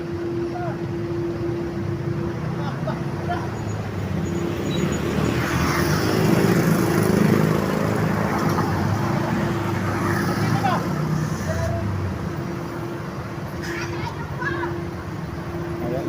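Dense road traffic beside the airport on C5 in Manila, a steady broad rumble of idling and crawling vehicles with passing engines and a faint aircraft-like drone, continuous at moderate level under occasional voices.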